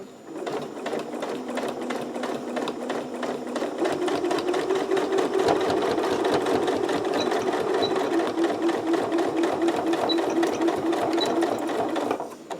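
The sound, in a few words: sewing machine stitching a zipper into a pouch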